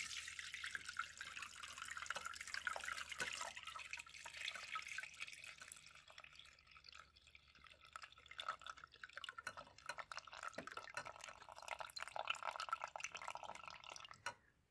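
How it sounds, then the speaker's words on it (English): Canned pineapple chunks and juice poured from a large can through a kitchen strainer, a steady splashing, dripping stream of liquid lasting several seconds, close by and moderately loud, with no talking. "I'm just going to dump this pineapple and juice through this strainer"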